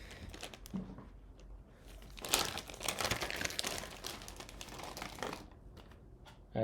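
A mechanical keyboard key switch being pulled and replaced: close, quiet plastic clicks, scrapes and crinkly rattles, with a denser burst of handling noise in the middle and a sharper click at the end.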